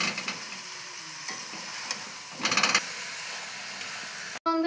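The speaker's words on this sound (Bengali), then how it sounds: "চিনি দিয়ে এইভাবে আমি একবার নাড়বো" Sugar stirred into raw mango pickle as it cooks down and melts, a soft steady sizzling hiss with a few scraping stirs and a brief burst of bubbling near the middle, close and without speech.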